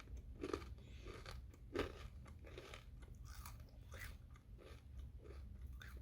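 Someone bites into and chews thick, dense Mary's Organic seed crackers packed with flax seeds, giving a sharp crunch followed by a run of softer, close, quiet crunching chews.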